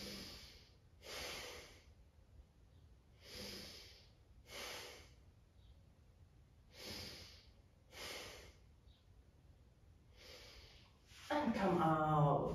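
Slow, steady breathing during a yoga pose, with about eight soft, breathy inhales and exhales spaced evenly and heard close in a quiet room, followed at the end by a voice starting to speak.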